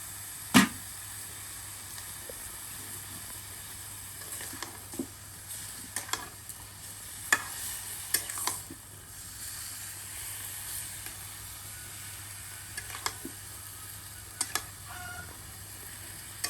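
Beef being stirred and mixed with hand-ground spices in a pot for a village-style curry: soft scraping and stirring noises with a few sharper clinks, against a steady background hiss.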